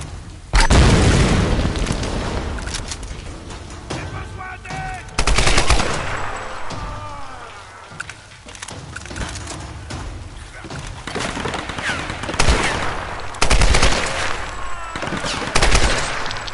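A gun fires in the video game Tomb Raider in several loud, sharp bursts spread across the stretch, with booming reports and echoing decay between shots and no talk.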